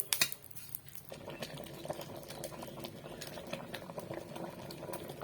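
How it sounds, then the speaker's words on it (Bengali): Two packets of vermicelli fry in white oil in a pan, a soft and fairly faint crackling sizzle that runs steadily throughout after a brief clatter at the start. "এই দেখো সিমাই 2 প্যাকেট ভেজে নিচ্ছি। সাদা তেল দিয়ে ভাজছি"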